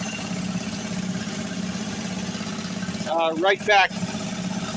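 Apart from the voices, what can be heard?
gas engine air compressor idling on bypass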